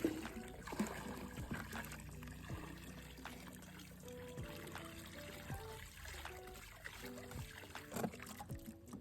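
Pool chemical poured slowly into a swimming pool near the returns makes a faint, continuous trickle and splash of liquid over a low background hum.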